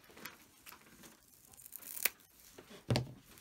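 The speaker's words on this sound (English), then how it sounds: "and I'm going to cut this velcro off." A strip of velcro is snipped off with scissors while making fabric shopping cart covers, giving a few brief, crisp tearing and cutting sounds, close and fairly quiet, with the sharpest cuts near the end.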